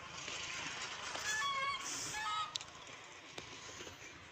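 Faint honking calls from ducks in a village yard in a short burst, distant and quiet against a hissy outdoor background.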